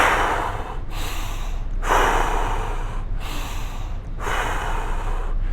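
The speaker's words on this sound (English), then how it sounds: "So now you're into that power breathing," Power breathing, in through the nose and out through the mouth: four or five strong, rhythmic breath cycles about a second apart, close and loud, each a forceful airy rush with short pauses between.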